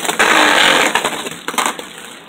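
Beyblade Burst Turbo tops clashing and scraping in a stadium battle, a loud harsh grinding rush that fades into a few sharp scraping bursts, close and with no talk.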